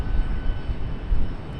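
An airplane rumbles at Charlotte Douglas International Airport, a steady low engine roar heard from a spotting position, continuous and moderately loud across the short stretch.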